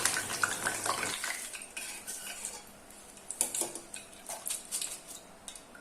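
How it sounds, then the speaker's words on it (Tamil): Curry leaves tossed into hot oil at the end of frying crispy onion pakoda, a crackling, spattering fry heard close alongside the clinks and scrapes of a metal spoon against the pan. "கடைசியில் நான் கருவேப்பிலை கொஞ்சம் போட்டு பொரிச்சு எடுத்துக்கிறேன்."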